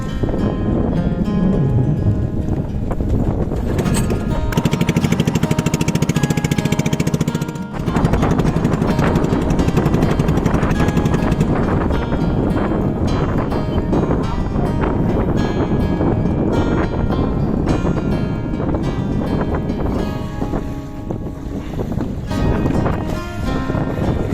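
A motorboat engine drones steadily and loudly for the whole stretch on a boat trip across the reservoir at Pantabangan, with wind buffeting the microphone and a brief dip partway through.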